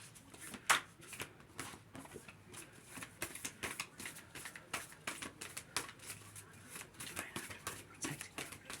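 Playing cards are shuffled and dealt by hand, a close, quiet run of rapid riffling bursts and light flicks that repeat in an uneven rhythm with no talking.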